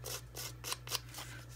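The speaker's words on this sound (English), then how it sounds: "I'm going to take my scissors, but I want to be more careful with this one." Scissors snipping paper for a handmade Halloween greeting card, four or five close crisp cuts in an even rhythm over a low steady hum, with no talking.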